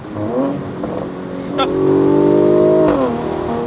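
A Mercedes-AMG C43 Cabrio's twin-turbo engine revs up, climbing smoothly in pitch and loudness to a sustained high drone before easing off, heard up close with some talk nearby.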